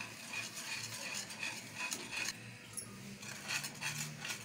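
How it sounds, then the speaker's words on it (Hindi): Boiled milk is stirred into cream (malai) for homemade desi ghee, giving soft, quiet scraping and swishing strokes of a spoon in a pot, repeated in an irregular rhythm and heard close up. "इसे मैं शामिल कर दूंगी मलाई में, ये ऐसे, और अच्छी तरह मिक्स करूंगी"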